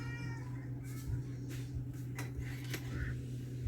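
A house cat meows several times nearby, drawn-out calls over a steady background hum, with faint kitchen clatter of dishes or cutlery between the cries.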